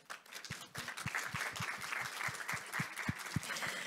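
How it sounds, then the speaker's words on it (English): Audience applause at a diversity-focused meeting industry event, a steady wash of many hands clapping with a few sharper claps standing out, moderately loud and continuous throughout. "So let's give them a round of applause"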